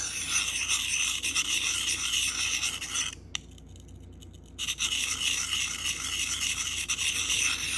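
A steel knife, S90V, is drawn in steady rasping strokes across a Sharpal field sharpener, close and continuous, with a brief quiet pause midway before the scraping resumes.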